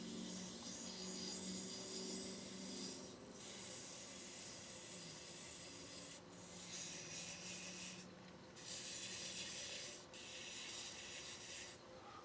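Continuous abrasive rubbing of sandpaper on a wooden shaving brush handle, a hissing rasp in long strokes broken by brief pauses, close and steady.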